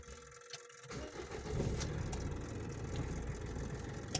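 A car pulls out of a parking spot: its engine rumbles into a steady low drone that grows slightly louder as it moves off, close by, with no talking.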